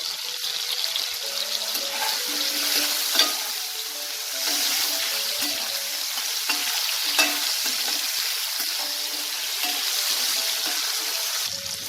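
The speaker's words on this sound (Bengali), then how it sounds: "ঢেকে ঢেকে আলুটাকে লাল করে ভেজে নেব" Potatoes seasoned with salt and turmeric sizzle in hot oil, a bright continuous crackle with occasional stirring clatter and faint music in the background.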